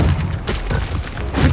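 A loud, booming explosion from the Confringo fire spell in Hogwarts Legacy, a short, dense blast with heavy low rumble filling the moment.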